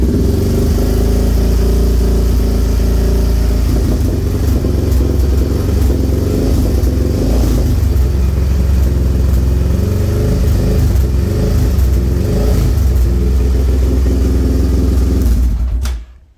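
An ATV engine fitted with a Cuervo +3mm throttle body runs loud and close, idling with rising and falling revs throughout before cutting off abruptly at the end.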